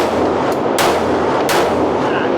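Two sharp pistol gunshots at an outdoor shooting range, each a loud close crack with a short tail, spaced under a second apart against steady background noise.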